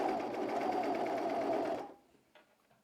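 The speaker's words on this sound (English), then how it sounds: "we're going to sew from the pocket edge all along the bottom of it, over the side seam and down the side seam" Home sewing machine stitching the side seam of a wrap dress, a steady close whirring run for nearly two seconds that stops abruptly, leaving faint handling noise.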